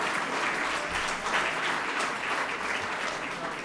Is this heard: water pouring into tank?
no